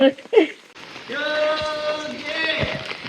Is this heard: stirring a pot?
no